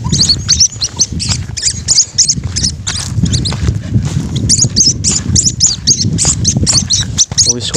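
Small uwis birds chirp in quick repeated bursts close by on a Philippine farm plot, the calls loud and dense throughout, with low rustling and handling noise underneath.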